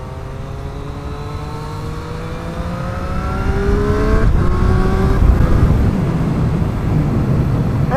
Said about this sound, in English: A lot of that seems to be engine sound though, and it is quite a unique and very nice sound.